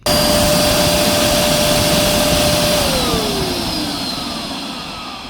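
A Shark CarpetXpert EX201 carpet cleaner runs with a loud, steady motor whine and rushing airflow. Its pitch drops partway through and the sound slowly fades as it winds down, with no talking.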